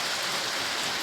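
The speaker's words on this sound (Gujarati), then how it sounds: "વરસાદ થઈ ગયો પાછો ચાલુ ધીમો ધીમો" Light rain falling steadily in a village, a soft, even wash of hiss with no distinct drops and no voices, heard briefly.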